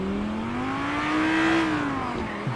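A car with a V10 engine revs in one sustained, rising and falling roar, loud and close, steady for a few seconds with no talk over it.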